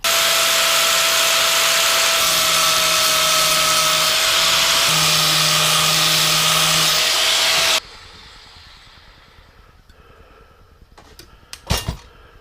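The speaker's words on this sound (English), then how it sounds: "first I want to sand all these welds smooth around here so they disappear" A power sander grinds welds smooth on the metal neck of a 1/14-scale lowboy semi trailer model, giving a loud, steady whine for several seconds before stopping, followed by faint clatter and a sharp knock.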